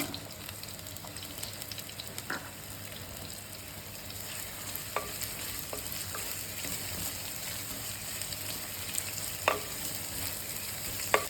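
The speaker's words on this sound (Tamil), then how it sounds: "பாருங்க, சின்ன வெங்காயம் நல்லா பொரிஞ்சு வந்துடுச்சு." Shallots, curry leaves and red chillies fry in oil for a kadala kulambu, giving a steady, close sizzle with occasional sharp pops and crackles throughout, no voices.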